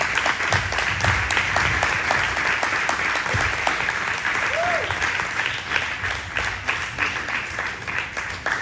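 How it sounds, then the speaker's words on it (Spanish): Church congregation applauding in praise of the Lord during a Spanish-language sermon, steady dense clapping that fills the room without pause, with a few whoops and a brief voice rising over the crowd. "denle un aplauso al Señor"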